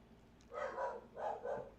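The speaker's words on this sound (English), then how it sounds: "Dogs." Dogs in the video game Limbus Company let out two short, muffled bark bursts in quick succession, fairly faint against a quiet background.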